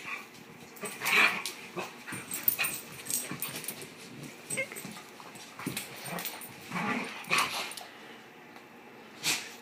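A dog at play whimpers and yips in short, scattered bursts, fairly faint and close to the microphone, with no talking.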